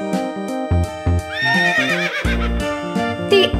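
An Appaloosa horse neighs in a long, wavering whinny, loud and close, framed by short tonal musical notes before and after.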